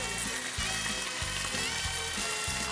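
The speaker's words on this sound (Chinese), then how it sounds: "你要不要多煎几块？" Meat slices brushed with barbecue sauce, some with honey, sizzle steadily in a frying pan, a close, continuous crackling hiss with soft pops and no talking over it.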